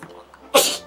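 A single sharp, loud sneeze bursts out near the end after a quiet moment with faint background murmur.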